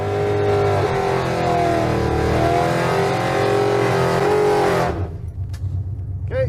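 A drag car on nitrous at full throttle roars loudly as it accelerates, its engine note climbing steadily, then cuts off abruptly near the end and leaves a fainter fading tail.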